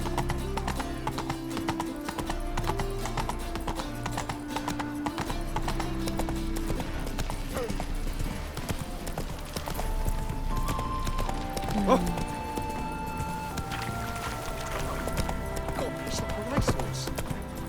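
In The Witcher 3: Wild Hunt, a horse gallops with a steady, loud clip-clop of hooves throughout, alongside game music and ambient sound.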